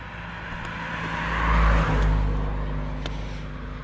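Cars on a road pass close by, a steady engine and tire rush that swells to a peak near the middle and then eases off, with no talking.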